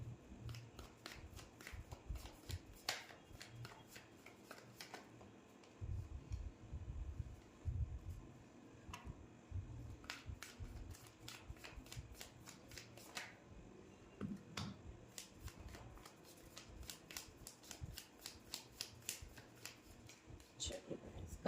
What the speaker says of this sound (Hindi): आज हम कार्ड्स को शफल करके निकालेंगे।